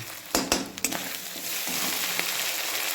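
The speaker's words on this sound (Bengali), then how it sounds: "মশলাকে সাথে ভালো করে কষে নেব।" Spice paste with turmeric and salt frying in a pan, a few sharp clanks of a utensil early on, then a steady close sizzle that swells slightly and holds.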